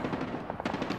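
Gunfire in the mobile shooter Call of Duty Mobile: a quick burst of rapid automatic shots, fairly faint and compact, lasting about a second, with no talking.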